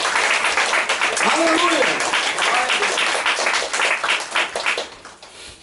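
A church congregation claps and applauds in dense, sustained applause that fades toward the end, with a voice calling out over it.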